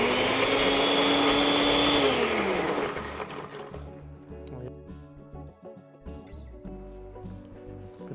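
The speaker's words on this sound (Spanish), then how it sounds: "licuamos, vamos a licuar acá" A kitchen blender purees pineapple sauce, whirring loudly and steadily for a couple of seconds before winding down as the motor slows, followed by quieter clattering.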